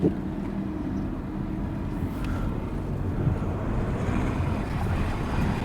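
A VW Golf, an abandoned car with a good clutch, rolls slowly up a driveway while its gears are tried, giving a steady low rumble with wind buffeting the microphone throughout and no talk.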